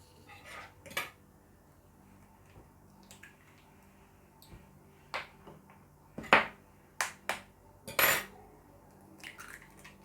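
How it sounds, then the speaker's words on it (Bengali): Two eggs being beaten with cornflour and flour in a bowl for chilli chicken batter, heard as irregular sharp clinks and taps of utensil on bowl, close and fairly quiet, with no talk. "ডিমগুলো আগে ফেটিয়ে নেব।"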